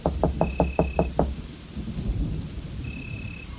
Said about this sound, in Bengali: হঠাৎ প্রধান দরজায় মৃদু কিন্তু স্পষ্ট করাঘাত।